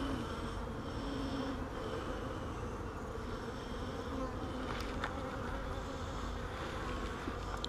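A dense, continuous hum of many honey bees buzzing close by at a hive, steady throughout with no voices.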